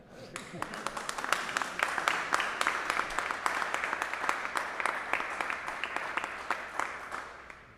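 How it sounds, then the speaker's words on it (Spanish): Applause at a press conference in Utrillas with the president of Aragón, a fairly faint, steady patter of clapping from a modest room of people, with voices mixed in underneath. "Tenemos que aplaudir, presidente."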